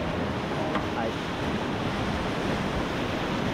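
Rapids on the Yoshino River in Tokushima roar at a kayak run, a loud, continuous rushing wash of river water that holds steady throughout with no voices.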